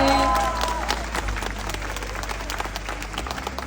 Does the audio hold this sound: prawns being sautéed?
no